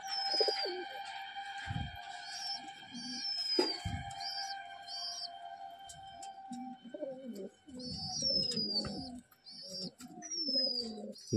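Pigeons coo in repeated soft calls, with a steady tonal drone and occasional close handling thumps and rustles, fairly faint overall.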